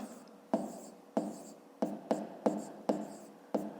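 Numbers being written by hand for a fifth-grade math exercise, with short scratchy strokes repeating in a steady rhythm, about seven distinct marks, close and fairly quiet.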